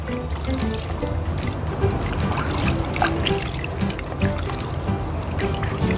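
Running water splashes and trickles steadily over a sulcata tortoise being rinsed during a wash, close and continuous with small irregular spatters.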